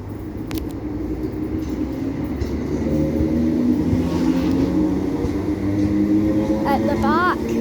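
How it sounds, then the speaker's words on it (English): ScotRail Class 320 electric train departing Hamilton Central station, a steady loud rumble and rising motor hum as it pulls away close by, with brief squeals near the end. "Departing now, we've got a 320 ScotRail service to Dalmuir."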